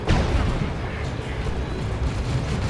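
Rocket run explosions in the Warhammer 40k real-time strategy game Dawn of War 2, a 3v3 match: a sharp blast at the start rolls into a dense, continuous rumble of loud booms and battle noise.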